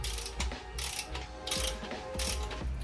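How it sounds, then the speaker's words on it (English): Ratchet wrench loosening the rear axle nut on a Honda Grom motorcycle, rapid clicking pawl strokes in four short bursts, close and crisp. "First step, loosening the axle."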